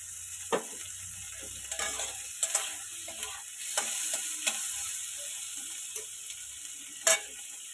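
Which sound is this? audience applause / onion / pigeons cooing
onion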